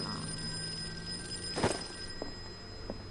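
A telephone rings inside a detective video game set around a speakeasy bar, heard as a faint, thin electronic tone with a few brief bursts standing out over a quiet background.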